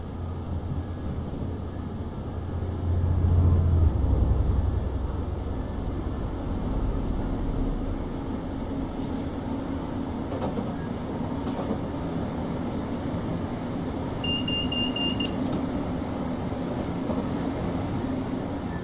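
A Class 321 electric train's traction motor hum in a train simulator game, heard with the windows open as a steady low rumble with a louder swell early on and a faint high whine.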